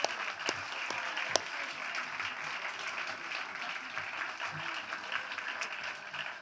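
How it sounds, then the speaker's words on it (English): Audience applause for performers at a Morningside After Dark show, a dense sustained wash of clapping with a few sharper claps near the start, steady and moderately loud from beginning to end. "let's give them another round of applause"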